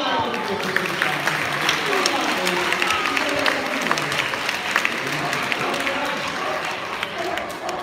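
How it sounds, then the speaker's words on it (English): An outdoor crowd applauds at a London safari park animal show, dense and even clapping held at a steady level, with voices mixed in. "Give little Roger a big round of applause."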